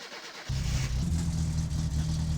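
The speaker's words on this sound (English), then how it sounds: "Ow, that is loud. For a reason that the exhaust is disconnected." A car engine in My Summer Car cranks and catches, then runs loud and rough with a disconnected exhaust, a steady low drone with slight revving, close and alone.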